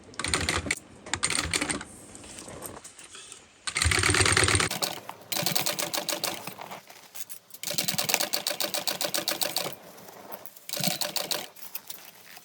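Home sewing machine basting a seam on a fabric baby sling, running in several bursts of rapid stitching separated by short pauses, close and fairly clear.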